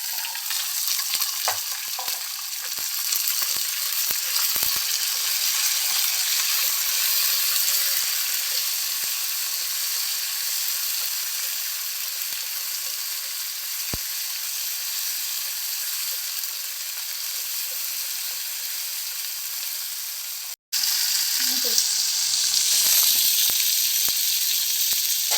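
Chopped tomato, green chili, onion, ginger and carrot frying in a pan for vegetable vermicelli upma, a steady close sizzle with scattered stirring scrapes, cut briefly by a sudden break before the frying resumes.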